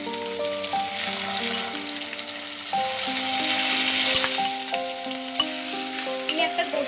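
Onion paste frying in hot oil for a Bengali tel koi fish curry, a steady close sizzle that runs the whole time, with tonal music playing underneath.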